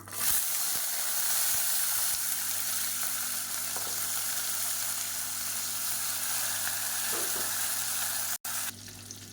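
About twenty whole shallots fry in oil for a tomato bajji side dish, making an even, loud, hissing sizzle that holds throughout with faint stirring and a sudden cut near the end.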